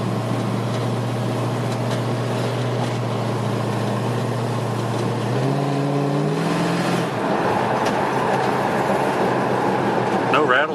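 A 1970 Plymouth Cuda with a 340 engine drives along, its steady low engine rumble shifting pitch as it accelerates and changes gear, loud and close throughout.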